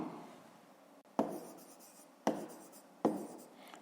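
A pen or pencil writes by hand in short close strokes, three distinct scratchy bursts each fading into quiet, during a fifth-grade math exercise, with no talk.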